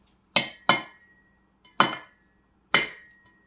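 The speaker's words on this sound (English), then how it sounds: "We're gonna be putting the eggs in here." Eggs knock against a glass blender jar in four sharp, ringing clinks, two close together and then two more spaced apart, in an otherwise quiet kitchen.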